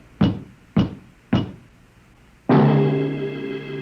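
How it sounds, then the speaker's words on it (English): Three firm, evenly spaced knocks on a door as a radio drama sound effect, followed by a sustained swelling musical chord that rings on and slowly fades. "There was a knock on the door."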